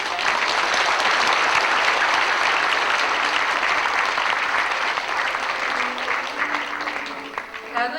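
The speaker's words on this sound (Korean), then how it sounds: "여러분 격려의 박수 부탁드립니다." Loud, sustained audience applause at a 2003 university scholarship award ceremony, a full wash of clapping that thins slightly toward the end, with faint voices underneath.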